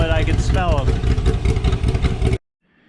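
A Corvette fitted with a Corsa exhaust idles close by with a tight, choppy, loping rumble that holds steady for a couple of seconds, then cuts off abruptly.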